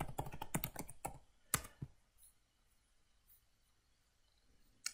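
Quick bursts of key clicks on a computer keyboard, a fast flurry of taps followed by a couple of isolated strokes and then near quiet, one last click at the end.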